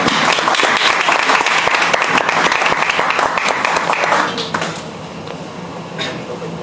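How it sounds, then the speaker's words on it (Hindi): A crowd at a 2021 startup business summit in Chhindwara gives loud, dense applause for an entrepreneur called to the stage. The clapping stays full for about four seconds, then thins and fades to scattered claps. "कृपया जोरदार तालियों से उनका स्वागत करें।"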